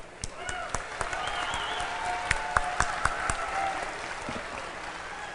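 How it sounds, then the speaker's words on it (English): Audience at a Minnesota Republican state convention applauds a candidate, Dave Hughes, with a steady round of clapping, sharp individual claps popping above the crowd, while a few faint voices and whistles sound underneath. "let's give him a warm round of applause"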